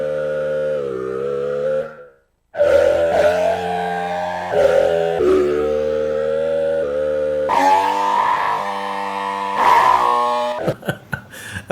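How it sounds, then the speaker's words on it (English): An FM synthesizer patch on a Roland System-8 with shifting, bending pitch, groaning and wavering in several sustained phrases, loud and alone, ending in choppy stutters. "This is a very cool patch that you made on the System 8, actually using the FM engine"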